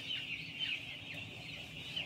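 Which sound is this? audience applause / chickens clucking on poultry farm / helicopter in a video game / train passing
chickens clucking on poultry farm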